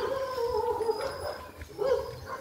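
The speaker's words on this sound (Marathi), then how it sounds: "कुत्रे या ठिकाणी आमच्यावर भुकत आहे" Dogs bark at people walking along a rural road after rain: a few close, yelping barks in two short bursts, mixed with whiny yips, over faint outdoor background.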